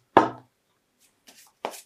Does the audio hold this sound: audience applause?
no